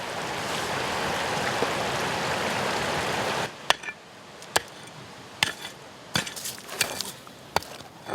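A mountain stream in the Caucasus highlands rushes in a dense, continuous wash for a few seconds, then drops to a quieter trickle broken by sharp knocks and clicks.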